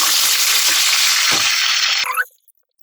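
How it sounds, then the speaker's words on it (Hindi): Loud, steady sizzling of a wet onion and tomato puree hitting hot oil, fading abruptly as the frying quiets down. "अब हम इसमें प्याज और टमाटो की प्यूरी डाल देते हैं"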